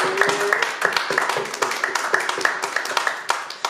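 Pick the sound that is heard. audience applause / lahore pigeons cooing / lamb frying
audience applause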